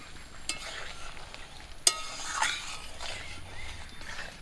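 Garam masala powder is stirred into a tangra fish curry sizzling in oil, a low steady fry with soft scraping strokes and one sharp clack of the spoon against the pan.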